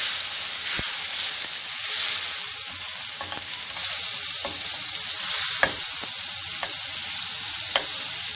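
Butter melting and sizzling in a hot cast iron pan with chicken pieces, a steady bright frying hiss with occasional sharp pops and crackles, close and loud throughout.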